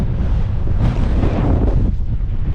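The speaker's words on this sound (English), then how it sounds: "It's obviously a bit too windy right here though." Strong wind buffeting the microphone on an exposed mountain beside a tarn, a loud continuous low roar and rumble with slight gusting, steady throughout with no voices.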